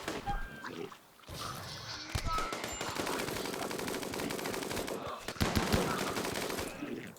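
Rapid automatic gunfire from Rimworld combat, dense sustained bursts over about seven seconds with a short pause near the start and renewed firing toward the end, with faint game sounds mixed in.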